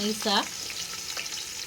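Four large, finely chopped onions fry for biryani in a pan, a close, steady sizzle with brief scraping stir sounds and a short tonal clink near the start.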